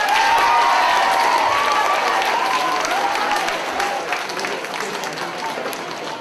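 Sustained applause with cheering from the audience at a sixth grade academic school assembly, loud and steady, easing slightly toward the end, with some voices mixed in.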